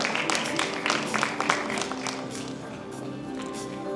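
An audience at the Checkmate film audio launch applauds to welcome director Ratheesh Sekhar, with dense clapping that is strongest early, then thins into a softer patter under faint hall noise.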